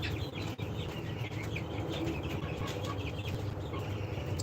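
A dense flock of 47-day-old hens on a poultry farm, raised for egg laying, clucks and chatters continuously at close range, many overlapping calls forming a steady busy din with no voices.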